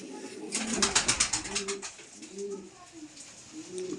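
Madrasi pigeons coo in soft, low, repeated calls, with a burst of wing flapping near the start as a bird takes off, all close by; a voice talks faintly in the background.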